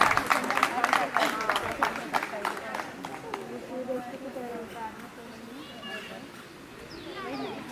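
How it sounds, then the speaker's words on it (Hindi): A crowd claps for poet Prashant Kumar Pandey at an Independence Day celebration, with brisk applause in the first few seconds that fades as voices carry on speaking. "जोरदार तालियों से स्वागत करेंगे प्रशांत कुमार"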